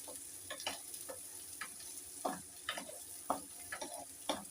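Chopped onion sizzling in a pan with cinnamon, cardamom and cloves while being stirred, a soft continuous fry hiss punctuated by a dozen or so light spoon scrapes at an uneven rhythm, close but quiet.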